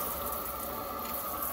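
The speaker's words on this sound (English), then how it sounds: "I'll turn the water on now" Water runs from an outdoor shower tap after a burst pipe was repaired with a Sharkbite push-fit connection. It makes a steady, close, unbroken rushing hiss with no talk over it.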